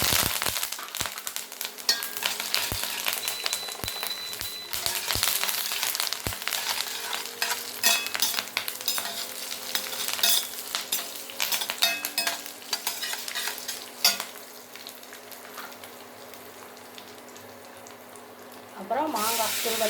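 Mustard seeds, urad dal, fenugreek, chana dal and cumin sizzle and crackle in hot oil for a South Indian raw mango rice tempering, a steady frying hiss with scattered pops and occasional stirring, close and fairly loud.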